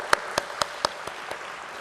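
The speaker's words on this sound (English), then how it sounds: "That definitely deserves a round of applause." A short run of six claps at a stock exchange listing ceremony, sharp and evenly spaced, fading slightly toward the end, sounding like a single person or small group rather than a full crowd.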